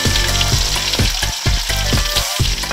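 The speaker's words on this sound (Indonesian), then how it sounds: "langsung kita tumis rica-rica keongnya" Snails sizzle loudly as they are stir-fried in rica-rica spice paste, with a steady dense frying hiss broken by repeated scrapes and knocks of a spatula stirring against the pan, close and alone with no voices.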